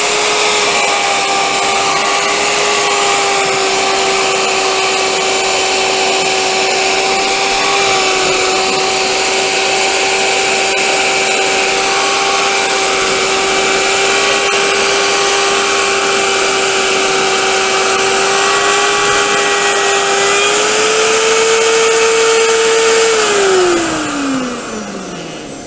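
Power saw running with a sled to cut a groove in wardrobe board, dust extractor on: a loud, steady whining drone with a constant pitch that rises briefly near the end, then winds down as the motor stops.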